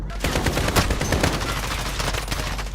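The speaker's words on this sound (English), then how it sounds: "Compressed weapons actually sound like that" Dense, continuous bursts of suppressed automatic weapon fire in the Call of Duty: Modern Warfare video game, close and loud, with overlapping shots and no pause.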